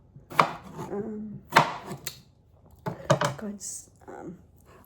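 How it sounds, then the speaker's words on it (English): A knife chops potatoes on a cutting board in a few sharp, uneven strikes, with someone talking quietly in between. "I'm just chopping it this way because it'd be a lot"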